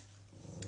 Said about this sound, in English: That's my dog barking at the postman.